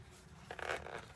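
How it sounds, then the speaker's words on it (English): A zipper runs in a quick, soft rasping burst in a hushed ASMR setting, quiet and very close, with no voices. "You could do the zipper."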